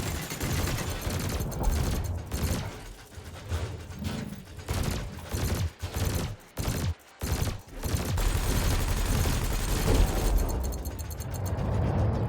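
Spaceship cannon and laser fire in Elite Dangerous, rapid mechanical bursts and pulses with rhythmic stuttering gaps in the middle, growing into a steady dense stream toward the end.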